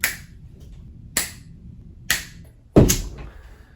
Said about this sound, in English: I'm gonna snap my fingers and I'm gonna summon her